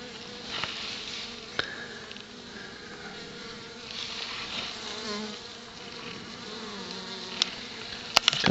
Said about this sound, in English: A couple of wounded bees wiggling around there at the entrance.